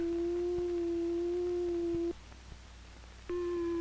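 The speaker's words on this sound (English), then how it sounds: "This is a sine wave." A pure, steady electronic sine tone from an oscillator holds for about two seconds, cuts out briefly to near silence, then returns just as steady and loud.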